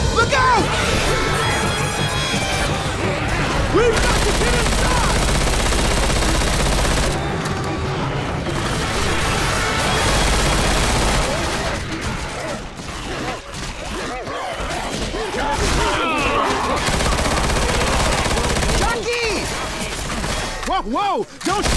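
Rapid bursts of gunfire in Left 4 Dead 2, sustained and dense across most of the stretch with crashes mixed in, dropping off in brief pauses before resuming, with voices talking over the shooting.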